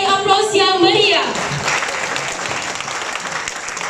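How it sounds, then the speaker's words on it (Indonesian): A crowd at a PDI Perjuangan party event breaks into loud, sustained applause for a speaker, with an announcer's voice over the first second before the clapping carries on alone. "Kita beri aplaus yang meriah."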